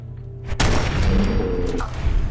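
30-06 hunting rifle fired in Fallout 4: a single loud, sharp shot that cuts in suddenly after a quiet start and is followed by a booming tail and a lingering rumble.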